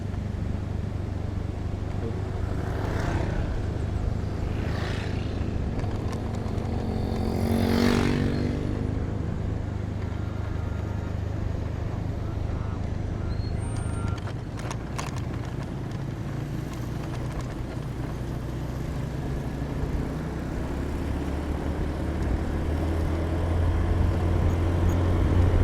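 Motorcycles and cars pass along a steep, dusty downhill road at Bayang Alpa in Solok, a steady low rumble of traffic with engines swelling and fading at moderate distance, no talk.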